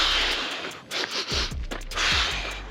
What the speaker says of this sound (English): my best technique is in 3 through the nose, out hard through the mouth